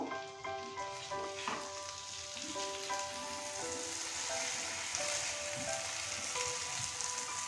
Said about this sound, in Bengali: এবার আমরা ঢাকনা সরিয়ে কিছুক্ষণ নেড়ে নেবো